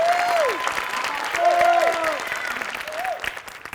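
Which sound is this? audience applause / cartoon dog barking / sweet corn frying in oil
audience applause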